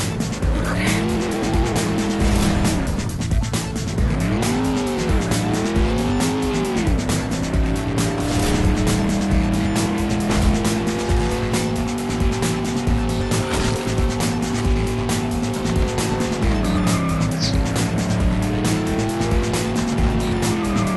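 Car engine revving with rising and falling pitch and repeated tire squeal in the PC driving game Clutch, loud and continuous throughout with no talking.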